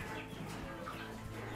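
Caged chickens in a converted garage used for urban poultry and pig keeping cluck softly and intermittently, faint and close against a low background murmur.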